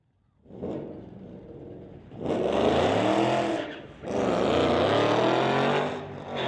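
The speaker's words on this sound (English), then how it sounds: "Mustang sure does have a lot of power." A street-legal Ford Mustang drag car launching and accelerating hard down the strip, with a rising engine roar, a brief dip at a gear change, then another loud sustained pull close by.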